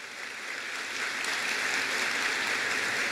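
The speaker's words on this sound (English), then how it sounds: "let's give all of these winners a round of applause for their achievements" Crowd applause for award winners at a 2018 college convocation, a steady, dense wash of many hands that swells slightly and carries on without pause, with no voices over it.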